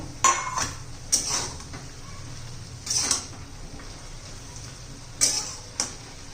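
Potato and capsicum for zunka being stirred in a pan over low heat, a few sharp metallic clinks and scrapes of a spoon against the pan spaced apart, over a quiet background.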